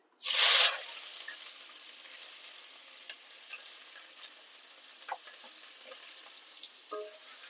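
Sliced onion dropped into hot oil in a pan for a double bean tomato masala curry, a sudden loud burst of sizzling that settles into a soft steady fry with faint ticks.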